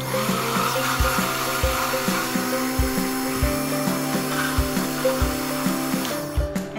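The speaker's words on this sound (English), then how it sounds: "So I'm going to mix it with the frappe machine." A frappe machine whirs steadily while blending eggs with extra whites, a continuous motor hum with a rhythmic pulsing knock roughly every half second, loud and close throughout.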